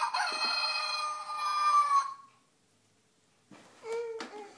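Toy chicken pushed to play a recorded rooster crow, a loud electronic cock-a-doodle-doo followed by a pause and a shorter clucking call, close and clear.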